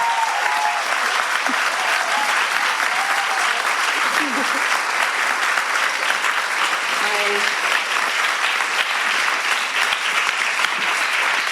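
A studio audience breaks into sustained applause, a dense, loud wash of clapping that holds steady throughout with a few faint voices underneath.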